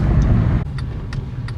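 A truck drives with a loud, close engine rumble that drops off sharply partway through, leaving a quieter idle broken by a few brief high clicks.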